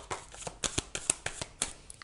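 Tarot cards handled and laid down in quick soft flicks and taps, close and fairly quiet, a steady irregular patter of card on card.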